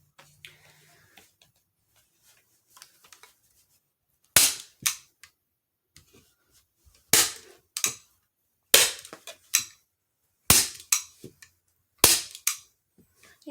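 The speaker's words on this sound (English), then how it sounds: "Whatever staple gun I got for Christmas" A staple gun firing into a t-shirt stretched over a frame, sharp snapping shots in pairs repeated about every one to two seconds, loud and close against near silence.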